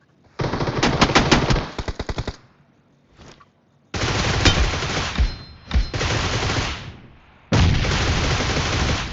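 Loud automatic gunfire from the BGMI mobile battle-royale game comes in long rapid bursts, with short gaps and a brief quieter shot between them, close and dominant, with no talk.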